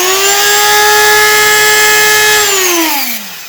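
An old Dedeco Moto Tool rotary tool runs at high speed with a loud, steady, piercing whine, then winds down as it is switched off.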